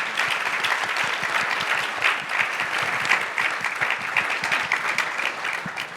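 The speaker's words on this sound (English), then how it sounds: "I want to give them all another round of applause for being so open" Conference audience at a patient-advocacy town hall applauds the panel speakers with a steady, moderately distant round of clapping that holds evenly throughout without a clear fade.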